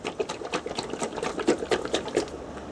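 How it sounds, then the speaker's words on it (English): A bottle of friction polish for wood turning is shaken hard to mix it, producing a quick, steady run of rattling, sloshing shakes that repeat several times a second, close up. "you need to shake this up quite a bit"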